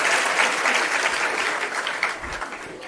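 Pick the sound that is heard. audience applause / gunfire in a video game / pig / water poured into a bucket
audience applause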